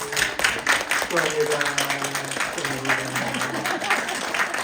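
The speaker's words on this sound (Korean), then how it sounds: "예, 우리 박수." A church congregation bursts into loud, sustained applause, a thick wash of many hands clapping steadily for the whole stretch while someone speaks over it.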